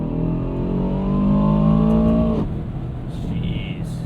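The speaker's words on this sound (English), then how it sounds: "Man, the exhaust note sounds fantastic." An Aston Martin DBX 707's exhaust revs up with a rising, harmonic engine note that holds loud for a couple of seconds, then drops off abruptly into rumbling idle.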